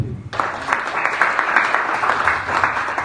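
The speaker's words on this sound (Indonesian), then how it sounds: "Berikan tepuk tangan yang baik." A church congregation at a Sunday service breaks into applause after a short quiet start, sustained dense clapping from many hands filling the hall for about three seconds.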